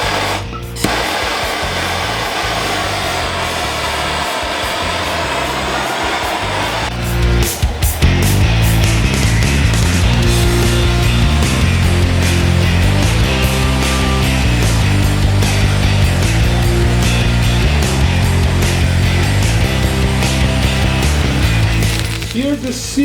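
Iwatani or Bernzomatic searing torch flame roaring steadily against a steak, a loud continuous hiss that swells and thickens partway through, with a rhythmic musical backing underneath.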